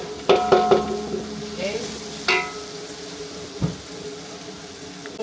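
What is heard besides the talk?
garlic, onion and ginger sautéing in a pan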